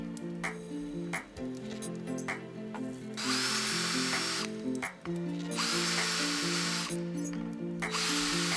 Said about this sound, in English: drilled and screwed the hinges into place